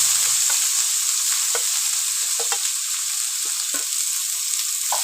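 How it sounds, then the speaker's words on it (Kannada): Finely chopped onions fry in a pan with cumin seeds and curry leaves, producing a loud, continuous close sizzle broken by repeated scraping taps of a spatula stirring them. "ಈರುಳ್ಳಿ ಚೆನ್ನಾಗಿ ಫ್ರೈ ಆಗಲಿ ಒಂದು ಸ್ವಲ್ಪ ಬ್ರೌನ್ ಕಲರ್ ಬರಲಿ ಅಷ್ಟೊತ್ತು ಗಂಟ ಈರುಳ್ಳಿ ಚೆನ್ನಾಗಿ ಫ್ರೈ ಮಾಡ್ಕೊಳ್ಳಿ"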